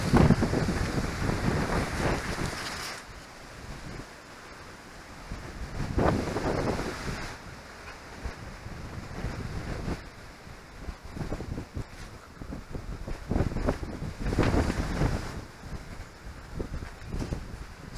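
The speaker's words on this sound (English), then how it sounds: "Wind!" Strong gusting wind buffets the microphone outdoors beside a triumphal arch at Mereworth Castle, rising and falling in loud rumbling surges across the whole stretch with no talk.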